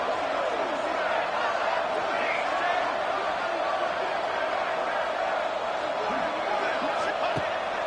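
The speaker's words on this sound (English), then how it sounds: "And this crowd is deafening" A deafening football stadium crowd roars continuously during a two-point conversion try at a Washington State versus Virginia game, loud and sustained, with a commentator talking over it.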